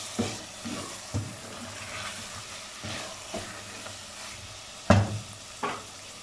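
Boiled peas stirred into frying minced meat for keema matar, a low sizzle under repeated scraping strokes and a louder knock of the spoon on the pan near the end, close with no talking.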